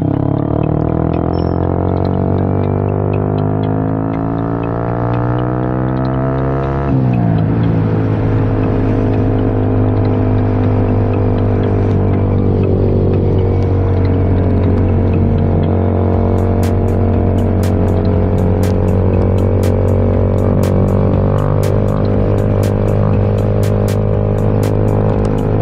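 A Yamaha MT 15 motorcycle fitted with an aftermarket exhaust runs close by, its engine revving up, dropping abruptly, then holding a loud steady drone with crackling pops from the exhaust.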